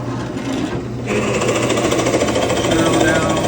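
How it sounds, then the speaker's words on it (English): A drill with a Forstner bit bores into a wooden kitchen cabinet door for a hinge, giving a loud, steady buzzing whir that starts after a brief pause and runs close and continuous to the end. "Drill down so the Forstner bed is about flush with the surface of the wood"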